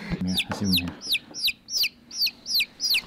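A chicken clucks in a rural farmyard setting, a series of about seven sharp, bright clucks in a steady rhythm after a brief low background murmur at the start, close and clear.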